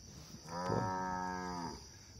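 Cattle on a hillside farm give a single loud, drawn-out moo lasting over a second, heading down toward the corral to nurse their calves.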